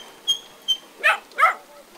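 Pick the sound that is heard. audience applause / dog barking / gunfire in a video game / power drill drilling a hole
dog barking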